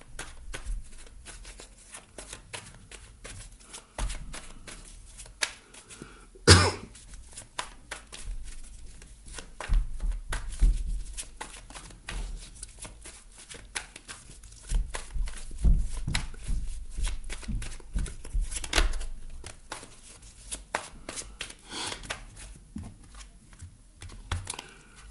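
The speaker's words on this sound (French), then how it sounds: "je vais prendre une carte" Tarot cards being handled at a reading, with soft papery shuffling and rustling through the clip and a sharp slap of a card set down early on, all at close range with no voices.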